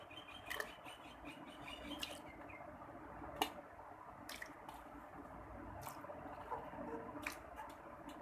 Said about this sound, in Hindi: अब हम इसके अंदर ये वाले पाए डालेंगे